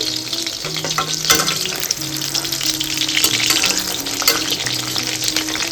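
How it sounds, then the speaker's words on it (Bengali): Marinated chicken frying as pakora in a home kitchen gives a steady, close sizzle with occasional stirring scrapes and a faint background hum, no talking. "আর আমি এখানে একটু চিকেন ম্যারিনেট করে রেখে দিয়েছিলাম, এটাকেই এখন একটু ভাজছি, মানে পকোড়া করছি।"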